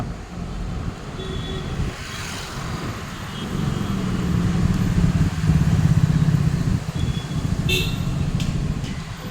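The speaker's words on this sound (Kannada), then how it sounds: "ಸಾವಿರಾರು ಬೈಕ್ ಓಡಾಡ್ತವೆ ಸಾವಿರಾರು ಕಾರ್ ಓಡಾಡ್ತವೆ" Motorcycles and cars pass steadily on busy 100 Feet Road, the main road in Nagarbhavi, Bengaluru, their engines rising to a louder, closer roar midway, with constant traffic rumble and a few faint horn toots.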